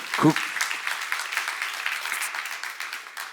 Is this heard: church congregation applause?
yes